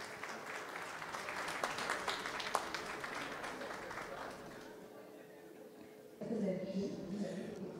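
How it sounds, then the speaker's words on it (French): Applause from a gala audience at the Radisson Blu as a company director general and his team leave, steady clapping that fades after about four seconds before a louder burst of sound with voices returns. "Nous raccompagnons Monsieur le directeur général et ses collaborateurs avec des applaudissements"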